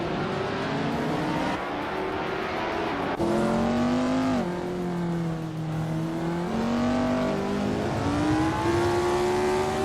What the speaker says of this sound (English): Maya and Bedazzler are nose to tail for the lead